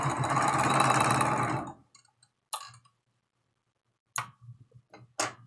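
A home sewing machine stitches a quarter-inch seam on a tulip quilt block, running as a dense, steady whir for about two seconds before stopping, then a few short, sharp clicks and thumps follow in near silence.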